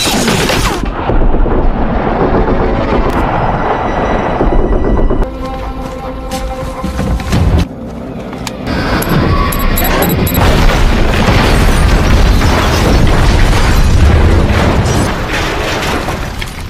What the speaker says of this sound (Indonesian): lalu meledakkan bom yang memang disiapkan oleh Jimmy